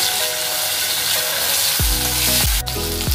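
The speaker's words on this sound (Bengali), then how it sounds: "কাঁচা লঙ্কা দিলাম 1/2 চামচ।" Garlic paste and green chilli paste frying in a pan for amudi fish jhal, a loud, dense, continuous sizzle with several sharp utensil scrapes toward the end.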